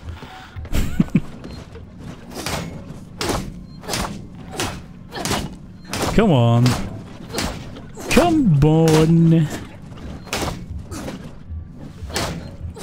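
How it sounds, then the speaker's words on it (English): A steady, loud series of banging thuds on a door in the Alien: Isolation game, evenly spaced blows continuing throughout as a person talks over them. "Banging this enough here so all the aliens can hear it."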